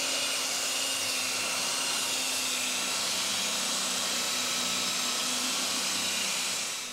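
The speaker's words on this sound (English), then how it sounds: "I'm using a sander because of the fact the wood's laminated." Power sander working a laminated wooden wind turbine blade, a 2 m hand-carved blade, giving a steady, loud broadband whir with a low hum, continuous and unbroken for the whole stretch.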